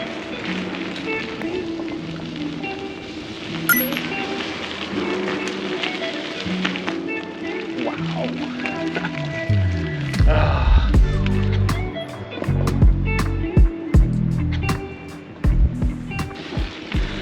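Bicycle rolling through a curved tunnel on the Route of the Hiawatha rail trail in Idaho and Montana, a steady rumbling, echoing tire and gravel noise that grows rougher and louder midway, with faint clatters and no speech.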